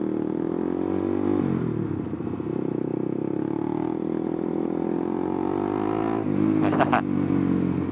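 A small Honda CBR150 motorcycle engine drones steadily while riding, its pitch shifting slightly at a couple of gear changes.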